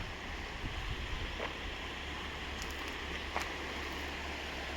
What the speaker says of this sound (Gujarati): જો આ શેલ નદી છે